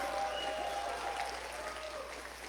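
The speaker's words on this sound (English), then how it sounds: "So how about a round of applause for all of you?" A crowd at an election night speech claps steadily and densely throughout, a continuous wash of applause with faint tonal sounds running underneath.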